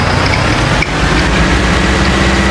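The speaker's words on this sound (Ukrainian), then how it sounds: "Під'їду на тракторі." A tractor engine in Farming Simulator 19 drones steadily and loudly, a low rumbling motor hum with a brief dip partway through, no voices over it.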